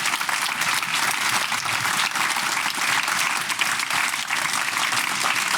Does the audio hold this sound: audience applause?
yes